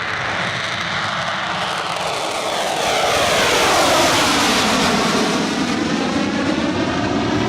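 An Avro Vulcan bomber at the Farnborough Airshow 2012 roars through its takeoff run, a loud, dense, continuous engine rumble that swells and holds steady with no voices over it.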